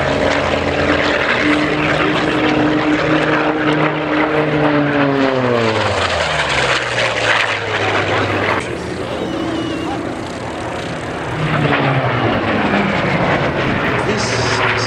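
A Hawker Sea Fury propeller fighter passes over an airshow, its piston engine roar rising and falling in pitch as it sweeps by, loud and sustained, with an announcer talking over it.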